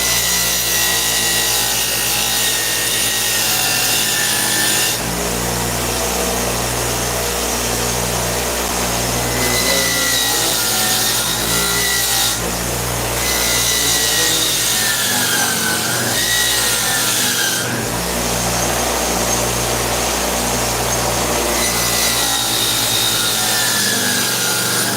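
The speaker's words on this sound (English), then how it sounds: "let the wire wheel just smooth out these little sharp bits right here that are from the tong" Spinning wire wheel smoothing sharp bits left by the tongs on a freshly forged axe, a loud continuous grinding rasp with a motor drone beneath, shifting in pitch as the metal is pressed and eased off.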